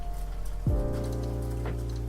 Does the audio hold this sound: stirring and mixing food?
no